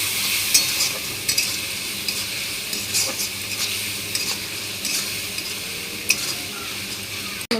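Spices with turmeric powder and salt are stir-fried in a pan. A continuous sizzle runs under repeated scraping strokes of a spatula or spoon, with occasional sharper clinks against the metal.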